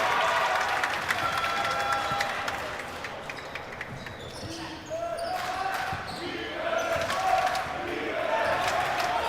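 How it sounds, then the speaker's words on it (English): Crowd at a college men's basketball game between Yeshiva and Mount St. Mary chanting for defense, a steady roar of voices and rhythmic shouts filling the gym, with sneaker squeaks and a commentator talking over it. "And here comes the defense chants from the crowd."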